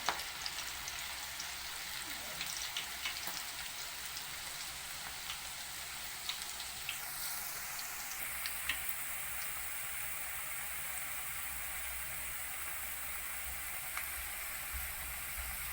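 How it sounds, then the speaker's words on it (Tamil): Okra (vendakkai) deep frying in hot oil, a steady, even hiss and crackle like light rain that continues unbroken, with no talking over it. "இப்போ இதில் நல்லா போட்டு பொரிச்சு எடுத்துக்கோங்க."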